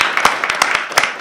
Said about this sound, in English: So I think we should give her all a round of applause,